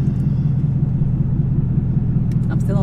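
A manual Chevrolet Camaro ZL1 rumbles deep and steady as it pulls away in first gear, the engine drone close and loud from inside the car, with a brief voice near the end.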